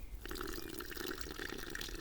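Faint, steady splashing of water being poured into a thick mixture, continuous throughout.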